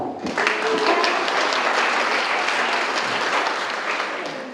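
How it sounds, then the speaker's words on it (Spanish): Applause erupts suddenly from the audience at a religious retreat in Costa Rica, a dense burst of many hands clapping that holds steady and then tapers slightly at the end. "Un aplauso para todos."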